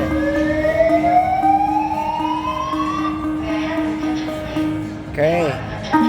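A siren-like alarm wails with a steadily rising tone in a busy casino during a 20-card keno session, loud over constant room noise, with a second warbling burst near the end.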